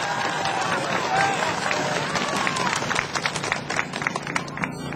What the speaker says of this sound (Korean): 자, 큰 박수 보내주세요.